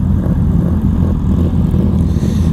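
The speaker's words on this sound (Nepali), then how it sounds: "खैरेको देशमा आएर खैरे नै रमाउने गरी बाइक पड्काएको छ केटाहरूले" Loud, continuous engine roar from sport motorcycles such as a Honda CBR 650R, a Ducati Hypermotard and Fireblades, revving hard on a street in Sydney, sustained and close with no pauses.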